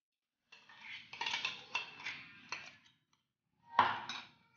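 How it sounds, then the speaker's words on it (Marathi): Finely chopped ingredients scraped out with a utensil into a metal vessel in a home kitchen, several short metallic scrapes and clinks in a rough cluster, a pause, then one final louder scrape, close and clear. "मी आता भांड्यामध्ये काढून घेते ह्याला."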